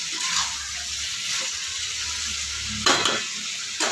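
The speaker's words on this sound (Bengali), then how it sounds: "মেটোগুলো কচুগুলো সব ভাজা হয়ে গেছে খুব সুন্দর করে।" Pieces of goat liver and taro sizzling in a pan, a steady loud fry with stirring scrapes and a sharp clatter near the end.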